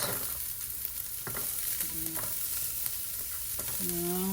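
Garlic and onion fry in a pan for pinakbet, a continuous close sizzle with scraping stirring strokes and occasional utensil taps, no talking.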